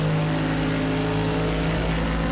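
Nissan GTR and Bentley GT3 race cars in a racing video game, engines droning steadily with strong tonal harmonics, a continuous loud roar with no break and no voices.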